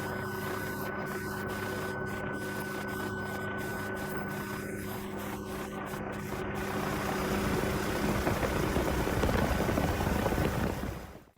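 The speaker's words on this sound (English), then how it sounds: "A Red Bull stunt helicopter showcases incredible agility, performing a series of daring aerobatic maneuvers, including steep dives and rolls" A Red Bull stunt helicopter flies aerobatic maneuvers, dives and rolls high over open fields, its steady engine and rotor drone holding throughout before swelling louder toward the end.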